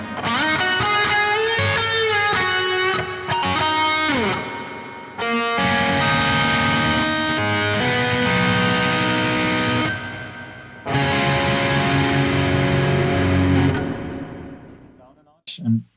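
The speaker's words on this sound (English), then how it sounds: "on the FX section is your reverb" High-gain electric guitar through the Audio Assault RVXX amp sim with reverb applied, a lead line followed by sustained distorted chords that ring out and decay into a lingering wash, loud with short pauses.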